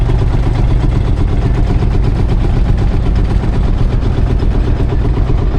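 A Field Marshall tractor engine running at a steam rally, a steady loud low thumping beat with a rapid even rhythm, continuous and close throughout.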